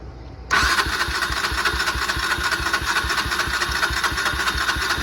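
A cold engine cranks briefly after a battery has been hooked up, then catches and settles into a steady, loud idle with a rapid low pulsing rhythm close by.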